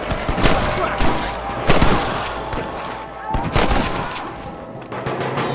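Gunfire in a Red Dead Redemption shootout: loud, close bursts of repeated shots, with several sharp cracks in quick clusters over a steady din of battle, plus shouting voices.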